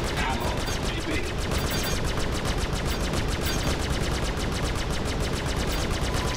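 Spaceship guns fire in rapid continuous bursts during a dogfight in the Star Citizen game, a loud dense rattle of automatic shots that fills the whole stretch, with a voice speaking underneath.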